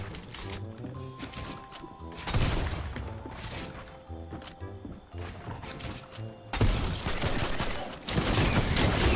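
The Utilizer weapon fires in the video game Fortnite, with rapid bursts of gunfire that come in loud surges over steady tonal music and game sounds.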